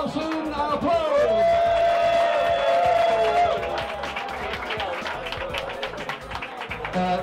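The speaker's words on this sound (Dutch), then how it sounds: "Nogmaals gefeliciteerd en nogmaals een applaus!" Applause and cheering at an award ceremony in a gay bar, Prik in the Netherlands, with a crowd clapping steadily, whoops and a whistle rising over it, and talk mixed in.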